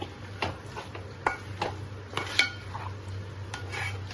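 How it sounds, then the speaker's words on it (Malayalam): A spoon scrapes and clinks against a pot while chicken is mixed with chopped coconut and fennel, with sparse knocks and scraping strokes up close, no talking. "നന്നായിട്ട് നമുക്ക് മിക്സ് ആക്കി ഇടുക"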